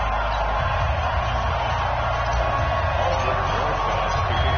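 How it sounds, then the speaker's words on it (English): A stadium crowd at an NFL matchup between the New York Giants and Philadelphia Eagles in the Madden football game, heard as a steady, dense roar of cheering that stays constant and loud throughout, with a commentator's voice faintly underneath. "This crowd is ready as their guys get set to match up between the New York Giants and the Philadelphia Eagles."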